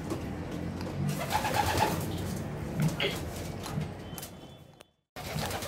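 Homing pigeons coo in a loft, with several soft, repeated coos over a busy background of fluttering and shuffling, close by, and a brief dropout near the end.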